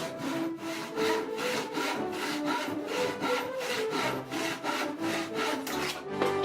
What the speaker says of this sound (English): Now you can work the wood with your saw.